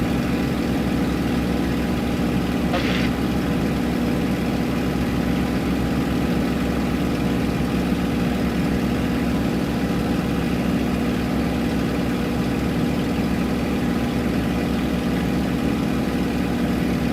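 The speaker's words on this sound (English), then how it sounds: "I'm going to increase the engine power, we're going to start climbing a little bit higher." A steady, loud Spitfire aircraft engine drone in flight runs throughout without a break, with constant low rumbling and no voices.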